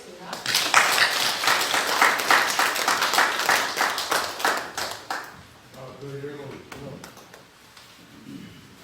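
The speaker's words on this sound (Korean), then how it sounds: "박수로 환영하시겠습니다." An audience at a church revival gathering claps to welcome a speaker: dense, steady applause for about five seconds, then it fades as speech begins.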